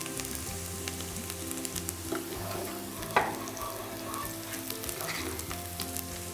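Onion frying in olive oil in a pan as a little more oil is poured in, a steady close sizzle with faint stirring taps and one sharper spatter midway, no talk.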